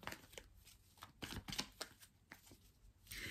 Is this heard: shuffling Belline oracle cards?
yes